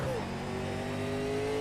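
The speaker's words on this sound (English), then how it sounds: "this is what every single race car engine would sound like" A race car engine revs steadily and loudly in the iRacing sim-racing game, holding a buzzing, sustained drone that fills the whole stretch, with some faint background chatter.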